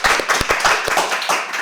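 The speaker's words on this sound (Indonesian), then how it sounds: "Tepuk tangan." An audience greets a guest with clapping, individual hand claps standing out in an uneven rhythm at close range, loud and distinct rather than a smooth wash.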